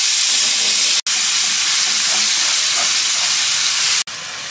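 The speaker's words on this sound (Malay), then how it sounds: "minyak yang sama Pakcik goreng bawang dengan cili ni yang kita dah kisar" Onion and ground chili frying in oil left from frying salted fish, a loud continuous sizzle and hiss, broken by two brief drop-outs.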